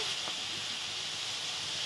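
Steady, hissing sizzle of prawns frying in hot oil in a kadai, continuous and fairly loud throughout with no talking.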